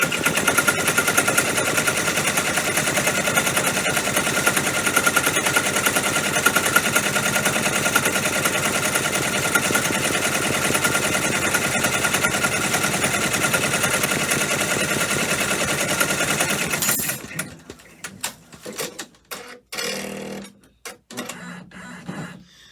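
An embroidery machine stitches a design above a pocket with a loud, fast, steady mechanical rattle that runs unbroken for most of the time, then stops abruptly and leaves a few scattered handling clicks and knocks.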